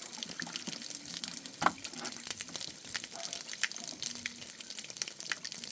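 Water splashes and trickles steadily at close range as water is changed for red tilapia fry, a soft continuous wash with small drips.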